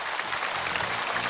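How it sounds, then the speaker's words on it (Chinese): An audience at a CCTV variety gala show breaks into steady, dense applause for the performers, continuous and fairly loud throughout, with a faint voice underneath. "掌声送给他们"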